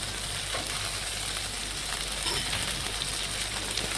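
Chopped tomato hits hot oil in a pan while a mutton curry cooks, giving a steady, close, loud sizzle and crackle throughout with no talking.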